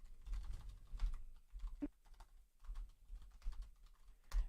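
Keys clatter on a computer keyboard in quick irregular bursts of clicks, close and fairly quiet, with short pauses between runs and no talking.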